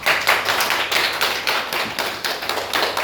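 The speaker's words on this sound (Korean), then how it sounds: "박수 한번 쳐요." A church congregation at a new-members class claps in a loose, uneven series of sharp hand claps, fairly close and moderately loud, with no talk.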